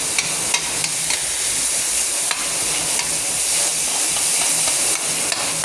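Minced pork stir-frying in a hot pan for Thai basil pork, giving a loud, steady sizzle throughout, with soft scraping stir strokes every second or so and no speech.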